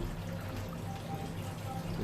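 Engine oil drains from the oil pan of a 2008 Mercedes CL550 during an oil change, a steady close trickle much like running water that pours continuously for the whole moment.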